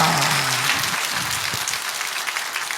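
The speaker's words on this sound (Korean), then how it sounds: "박수하겠습니다" Audience applause at a church sermon gathering, a steady wash of clapping filling the whole stretch at a fairly loud level.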